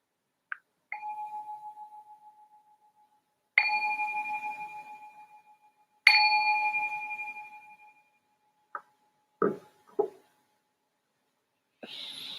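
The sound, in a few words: meditation bell ringing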